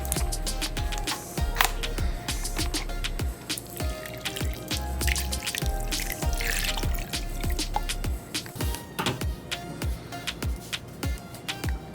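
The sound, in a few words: orange juice being poured over chicken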